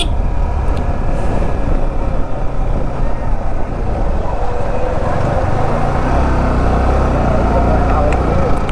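A bus drives past on a rainy hill road with hairpin bends near Valparai. A loud, continuous engine rumble mixes with road and wind noise, heard up close from a moving motorcycle.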